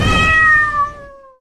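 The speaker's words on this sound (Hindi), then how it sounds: "जैसे उस छोटी बिल्ली ने म्याऊ किया" A small cat lets out one drawn-out meow that falls in pitch as it fades. The call is loud and close, with nothing else heard alongside it.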